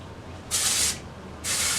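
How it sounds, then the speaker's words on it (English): Dry shampoo sprays into hair in two short, close, loud hissing bursts separated by a brief pause. "I'll spray this into my hair"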